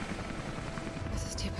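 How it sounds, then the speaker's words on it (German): A steady helicopter rotor drone in Rise of the Tomb Raider, with a dense, low chopping hum filling the short stretch, close and continuous, with a brief higher noise near the end. "Und schon wieder der Hubschrauber."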